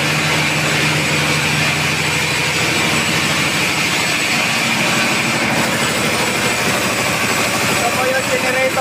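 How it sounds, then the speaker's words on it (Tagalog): Ship's generator running in an engine room, a loud, steady mechanical roar with a constant hum and broadband noise, unbroken and close throughout. "Ito po yung generator natin."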